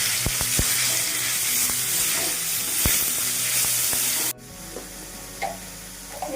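Marinated chicken frying in hot white oil for fried chicken momos: a loud, steady sizzle with a few sharp stirring knocks, cut off abruptly partway through and followed by a much quieter sizzle with faint clinks.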